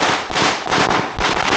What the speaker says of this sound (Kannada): ಪಟಾಕಿ ಆಯ್ತು ಮುಚ್ಚು